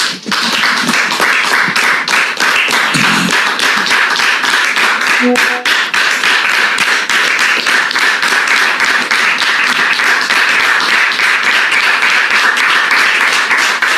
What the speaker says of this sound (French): Public, merci de recevoir l'époux de Dame Mélissa sous vos applaudissements, s'il vous plaît